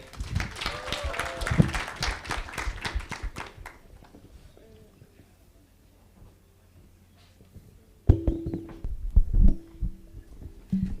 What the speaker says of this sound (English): Give me a big applause for Patricia.